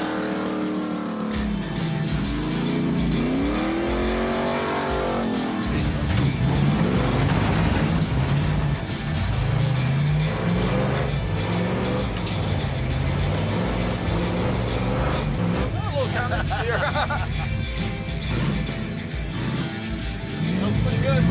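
The Wreck Runner race car drives and climbs a hill, its engine rising and falling through revs with rough mechanical rumble close by, while people talk and exclaim over it throughout.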